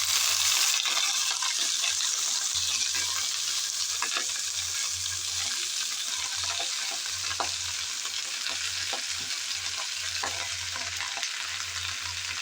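Jute leaf greens hitting hot oil with fried garlic and chili, a steady loud sizzle with bursts of stirring and scraping, no voices.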